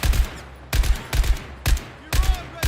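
Rapid bursts of video game gunfire, several loud volleys separated by short pauses, with heavy low-end thumps under each burst.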